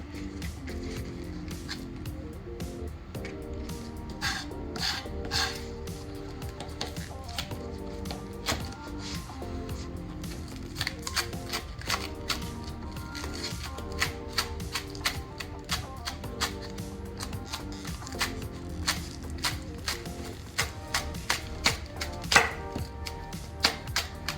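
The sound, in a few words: knife mincing green onion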